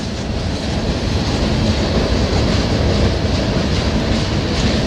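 A freight train boxcar rolls past close by at Tehachapi, a loud, continuous rumble with wheel clatter and steady rail noise, and no talk over it.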